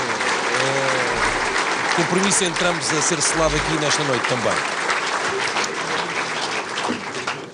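Applause from a crowd at a Portuguese legislative election night speech in 2019, steady and loud under a man's amplified speech that continues over the clapping throughout.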